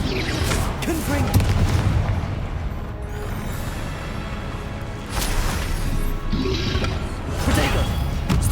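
Blasts from the Confringo explosion spell in a Harry Potter video game boom repeatedly amid battle clatter and other spell effects, with bursts recurring every few seconds over dense background game noise.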